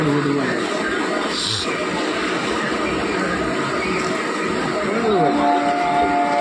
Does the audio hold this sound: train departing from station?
yes